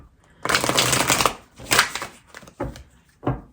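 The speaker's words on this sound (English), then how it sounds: "What a shuffle, right?" Oracle cards riffle and slide through several shuffling bursts, a long dense flurry followed by shorter quick rustles and snaps, close and crisp with brief pauses between.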